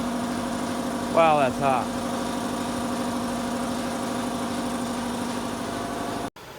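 A 4-cylinder air compressor of 1 to 1.5 horsepower feeding air to a foundry furnace runs with a steady mid-pitched engine drone throughout, briefly cut at the end, while someone speaks over it.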